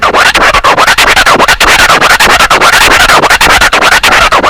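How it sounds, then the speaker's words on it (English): Dense, rapid turntable scratching using the two-fingered crab technique on a Vestax, quick choppy cuts in a fast repeating stutter pattern, loud and continuous without any talking. "the two-fingered crab can actually perform a similar pattern to the two-click flare"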